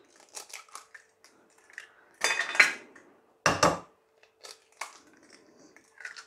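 Eggs in a dish are whisked with cutlery for a potato, chicken, leek and cheese croquette recipe: quiet bursts of clinking and scraping come in short irregular strokes, with a couple of louder rattling swirls, close and alone.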